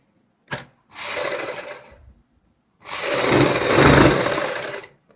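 A sewing machine stitches piping onto a kurti neckline in two bursts: a short quick run, then a pause and a longer steady whirring run with rapid needle clatter, close and alone after a sharp initial click.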